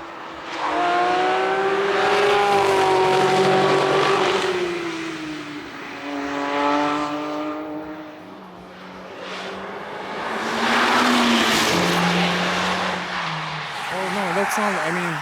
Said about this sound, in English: watch some prototypes and ring taxis go by